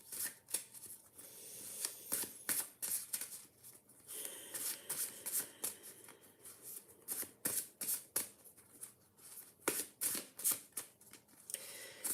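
Tarot cards being drawn and handled during a live psychic reading, with quick crisp shuffling and flicking bursts repeating close up and fairly loud throughout, no talking.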